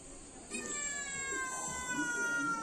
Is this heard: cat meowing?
yes